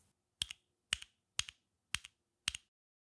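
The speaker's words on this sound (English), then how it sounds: "The new button caps are also made out of a softer plastic that doesn't make as harsh of a clicking sound." Five evenly spaced sharp clicks from an arcade stick button with a softer plastic cap, each a quick double tap, close and isolated in a quiet room.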